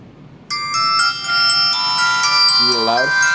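A small quad-band mini phone plays its startup ringtone, a loud bright melodic jingle of sustained electronic tones that begins suddenly and runs for about three seconds, with a short low swooping sound near the end.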